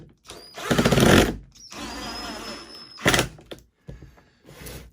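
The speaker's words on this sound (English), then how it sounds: "Pre-drilling is always good" A power drill pre-drills screw holes in a wooden Kentucky-style bluebird nesting box, running in several loud bursts of a second or so, with pauses and clunks between them.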